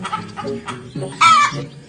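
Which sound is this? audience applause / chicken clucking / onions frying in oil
chicken clucking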